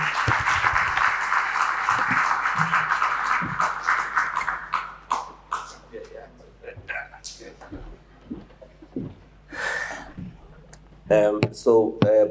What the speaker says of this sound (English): May we please raise him with a huge round of applause to appreciate him stepping up today.